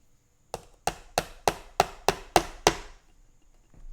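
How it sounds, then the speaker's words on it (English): Eight evenly spaced metallic taps ring out as a hammer gently strikes a screwdriver while fitting a WW1 helmet liner, each hit sharp and close with a short decay, followed by quiet. "take the hammer and kind of just gently tap on the screwdriver"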